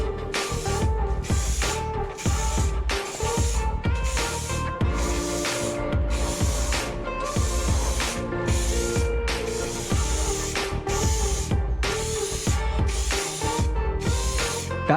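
Spray paint applied as a third coat to a Toyota GR86 bumper part, loud close hissing bursts in a steady repeated rhythm of short pulses throughout.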